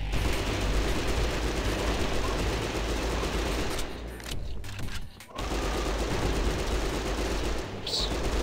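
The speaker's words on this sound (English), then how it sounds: "I got the special shot machine gun now" A machine gun in the video game Hunter: The Reckoning fires in long, dense bursts with brief gaps, loud and close, with a player's voice talking over the gunfire.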